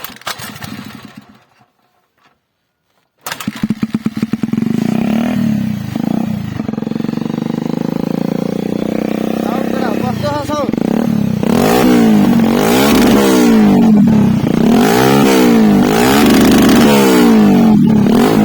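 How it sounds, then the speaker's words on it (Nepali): Motorcycle engine starting after a brief silence, then idling and revving loudly again and again in rising and falling bursts, close and harsh, with no talking over it. "बाइक आवाज सुन भाइ त अब है।"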